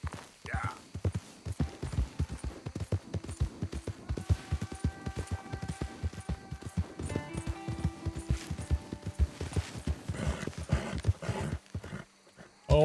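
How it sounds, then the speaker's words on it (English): Horse hooves in Red Dead Redemption 2 clip-clop in a steady, fast rhythm through most of the stretch, with game music tones and ambient noise layered over it and a louder burst at the very end. "Oh my god, horse."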